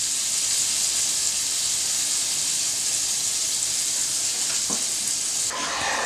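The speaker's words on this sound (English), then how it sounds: "when you saute scallops like this that you do it in a little bit of batches" Scallops sautéing in a pan give off a steady, close broadband sizzle that holds evenly throughout, with a brief clatter near the end and no talking.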